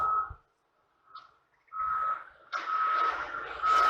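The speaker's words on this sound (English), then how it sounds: "you can hear the developers in the background building houses right the way up to the fence on this side." Reversing beeps from a construction vehicle on a nearby house-building site, a steady high tone cutting in and out at moderate distance, joined by rising engine and site rumble toward the end.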